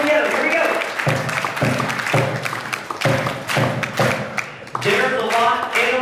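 An audience at the FACE '23 event claps in unison, several sharp group claps landing together in a loose rhythm, loud and close, with a voice talking between them.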